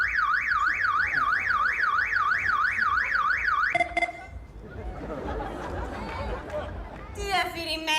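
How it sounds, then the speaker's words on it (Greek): A car alarm blares loudly with a rapid rising-and-falling electronic wail for about four seconds, then cuts out. A busy murmur of several voices and other noises follows, and the clip ends on a brief electronic tone. "Έχει βάλει συναγερμό ο άντρας μου."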